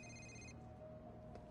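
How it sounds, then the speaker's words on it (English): A telephone rings in the video game Marvel's Spider-Man Remastered on PS5, part of The Heist DLC. A steady ringing tone sounds for about half a second and then stops, with a low ambient game background continuing after it. "All day with this damn phone."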